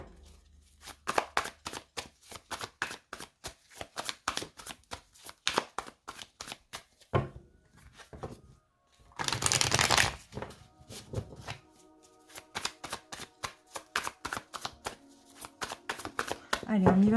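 A tarot deck, The Light Seers Tarot, being shuffled and cut: close, crisp riffling flutters in quick bursts with short pauses, one longer rush of card noise midway, and a voice near the end.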